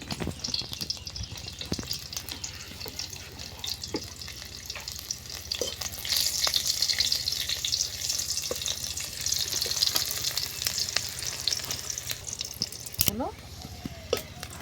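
Onions fry in oil in a pan for a village-style egg curry, a steady hissing sizzle with occasional clinks and scrapes, swelling in the middle, with faint voices in the background.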